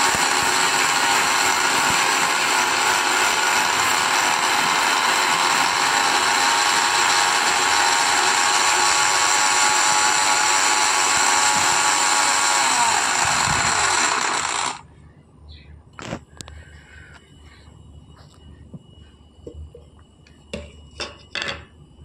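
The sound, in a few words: mixer grinder grinding spice powder for chicken pickle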